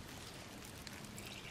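Water pours gently into a pot of rice for a rice cooker, a faint, steady trickling stream heard close with no talking.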